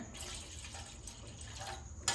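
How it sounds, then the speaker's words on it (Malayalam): Water pours steadily into a ragi mixture in a cooking pot, a soft continuous splashing that ends with a brief sharper sound. "ഇതാ കുറച്ചും കൂടെ വെള്ളം ഒഴിച്ചു കൊടുക്കുകയാണ്"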